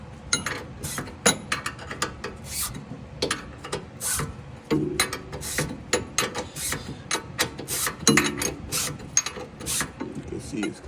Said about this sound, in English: you should be able to get the caliper out after you get this all screwed out